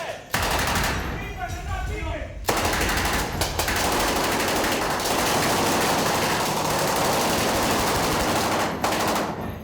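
Machine gun fire from simulated rounds during a US Marines training exercise, with long, loud rattling bursts broken by a few short pauses.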